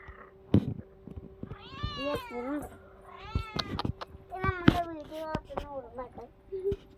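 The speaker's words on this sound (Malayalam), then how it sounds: "നമ്മുടെ പൂച്ചക്കുഞ്ഞിനൊന്ന് വിളിക്കാം." A kitten meows repeatedly, several rising and falling cries close by, mixed with taps and handling noises.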